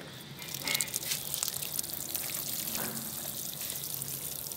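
Water is poured from above into a potted garlic plant, a soft steady splashing and trickling into the soil that runs the whole time, with small gushes and drips.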